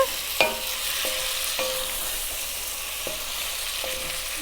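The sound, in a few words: stirring beef stew in a pot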